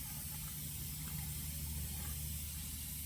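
Water sprays steadily onto a rusty Yamaha YZ125 dirt bike engine part, a continuous, faint hissing wash with no breaks.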